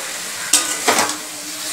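Jackfruit curry with sugar being stirred in a pan over a soft background sizzle, with two brief scraping strokes of a spoon against the pan, no talking.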